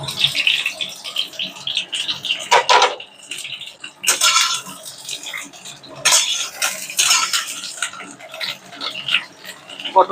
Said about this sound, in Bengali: পটলগুলোতে একটুখানি জল লেগে রয়েছে, যার ফলে তেলটা ছিটকচ্ছে